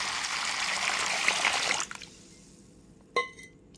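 Water splashes over washed grains in a bowl for soaking. The close pour runs for nearly two seconds, then cuts off, and a short clink of a vessel follows.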